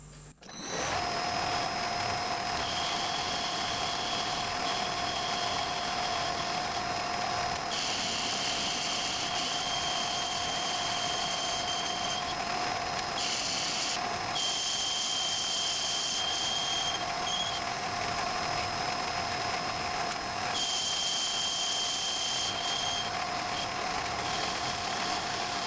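An end mill cutting a large counterbore into the bottom of a model aircraft engine piston gives a steady, loud machining drone with a sustained whine, running continuously for about twenty-five seconds with only brief shifts in tone.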